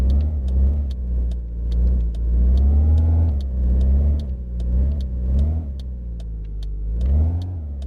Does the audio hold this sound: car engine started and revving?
yes